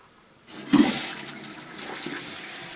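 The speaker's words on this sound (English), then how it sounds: "when I turn the water supply back on, it'll immediately start filling up the tank." Water rushes steadily into a toilet tank as it refills after the supply is turned back on, on a slow-filling tank with water spraying from the supply hose; a loud close hiss that surges briefly then holds.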